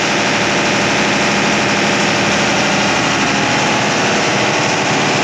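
A large engine supplying a town's electricity runs very loud and close with a steady, throbbing drone as its revs are being lowered, with no voices over it.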